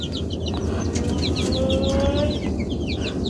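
Brahma chicken chicks cheep in rapid high chirps, several birds close by, over a dense low background murmur of noise.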